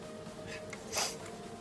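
A single quick, wet sniffle or snort rises out of quiet room noise, close to the microphone.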